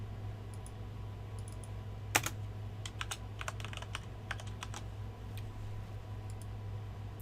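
Someone types a PowerShell command on a computer keyboard, a sparse run of light, close key clicks with one sharper tap, over a steady low electrical hum in a quiet room.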